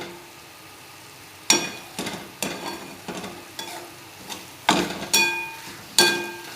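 Dry bhagar and sabudana mixture with toasted sesame and poppy seeds stirred in a pan, a quiet sizzle broken by about seven sharp scraping, clattering spatula strokes at irregular intervals, close by with no talk.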